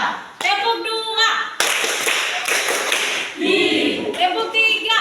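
A classroom of children clapping together in a counting clap game, the claps massing into dense bursts through the middle, with children's voices and chatter around them.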